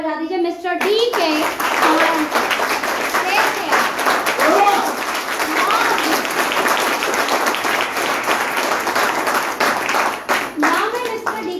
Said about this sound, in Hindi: तो एक बार उस मालिक के लिए ताली बजा दीजिए